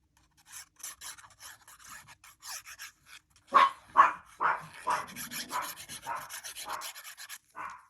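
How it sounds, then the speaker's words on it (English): A dog barks in the background during indoor card-making, a run of about a dozen sharp barks spaced irregularly, fairly close and moderately loud with no talk over them. "my dog is barking in the background"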